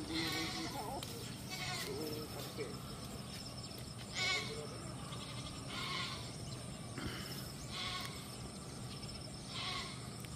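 Goats bleating out in the open, several short cries at intervals over a steady outdoor background with some faint voices.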